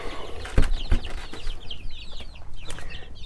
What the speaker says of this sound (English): underneath here we have the chicks in the bed